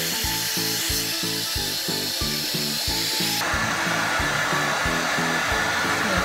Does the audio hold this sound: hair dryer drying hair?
yes